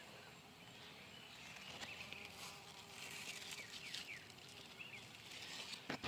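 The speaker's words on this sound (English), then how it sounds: "And the bees are out here working away." Bees buzz faintly outdoors around gourd vines on a trellis, their drones rising and passing close by now and then against a quiet background.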